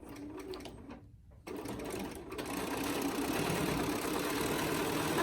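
A sewing machine top stitches along the edge of a face mask, starting after a short pause and then running in a steady, continuous mechanical whir up close.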